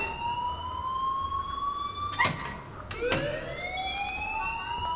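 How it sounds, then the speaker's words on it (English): An electronic alarm rings in the Life Is Strange video game, a steady high warbling tone that runs throughout with short sharp bursts partway through. "please turn off that alarm since that's your job"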